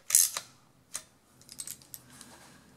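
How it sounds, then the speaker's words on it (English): A 10 millimeter socket tightens bolts on an aluminum golf cart starter generator, giving a few sparse, close, light metallic clicks and ticks in a quiet room. "now we just tighten them down"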